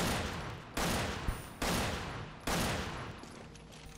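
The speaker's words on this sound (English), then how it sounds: "What are you shooting for?" Gunfire in the video game Resident Evil 5, heard as three loud, sharp bursts of shots about a second apart, each trailing off into noisy echo, with no talking over them.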